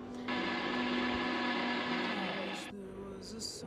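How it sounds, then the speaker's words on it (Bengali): A mixer grinder whirs through green chili, ginger and salt with very little water. A loud, steady motor hum runs for over two seconds, then slows and stops, followed by some faint clattering. "মিক্সিতে ভালো করে পেস্ট বানিয়ে নিয়েছি।"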